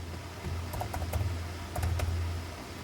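Soft typing on a computer keyboard, a few quick clusters of light key clicks over a low background hum, close but faint.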